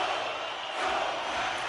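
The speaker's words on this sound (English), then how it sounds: "You can feel the energy in this crowd." A crowd at a beer league hockey game roars and cheers, a dense wash of many voices that swells slightly midway and stays loud throughout.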